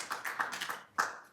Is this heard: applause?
yes